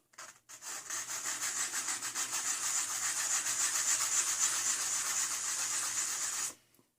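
Metal tweezer tips rubbed back and forth on sandpaper, a steady, rhythmic scraping of short quick strokes, close and fairly soft, running for several seconds before stopping.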